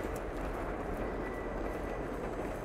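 A video game train, a steady, loud rumbling roll with a constant hum and faint rhythmic clacks, sustained without pause.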